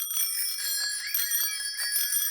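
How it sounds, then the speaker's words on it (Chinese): A cartoon bicycle bell from Peppa Pig rings in a rapid, bright, metallic trill, repeating continuously and loud. "比比谁的自行车铃最响"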